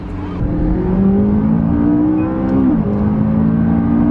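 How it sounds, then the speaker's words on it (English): A gated-manual Lamborghini Gallardo accelerates hard and close up, its engine note climbing steadily, dipping briefly at a gear change and then pulling on, loud and with no voices. "He has a gated manual Lamborghini Gallardo he's gonna let me drive it."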